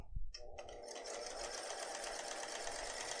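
A sewing machine fitted with a Teflon foot and white thread stitches a key fob at a 3 mm stitch length, running in a steady continuous whir after a brief start.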